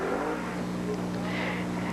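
Race cars, a Ford Mustang among them, roaring around the Seekonk Speedway oval, a steady loud engine drone heard from the stands, mixed with broad crowd and track noise.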